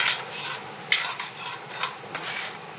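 Dry rice grains scraped and stirred around a hot pan with a utensil while dry-roasting, a steady gritty rustle with occasional sharper clinks.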